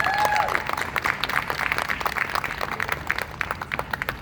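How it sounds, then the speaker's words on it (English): An audience applauds steadily, a crowd of hands clapping in a dense patter that carries on for several seconds. "Let's give them a round of applause, please."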